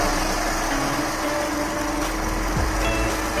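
A Mercedes-Benz M271 engine idles steadily after a timing sprocket repair, giving an even, smooth close hum with no knocking, and one short mechanical sweep near the end.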